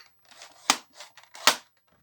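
A Nerf foam dart drops onto the floor, giving two small sharp taps about a second apart, quiet and close, with faint soft rustling around them.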